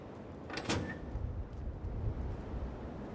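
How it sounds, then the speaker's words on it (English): A door opening in the video game Fortnite, a single brief burst near the start that fades quickly over a steady low rumble of ambient game noise. "Doors open."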